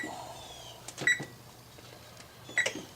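Oven control panel beeping while being set to 350 bake, two short, sharp electronic beeps about a second and a half apart, with faint button presses between them, close and quiet.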